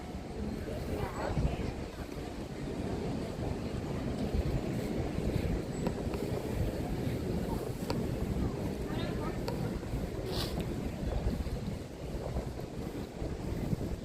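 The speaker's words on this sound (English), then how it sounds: "It's very windy." Constant roaring wind buffets the microphone over open water at the Tower of London, a dense low rumble lasting throughout with faint speech-like sounds beneath.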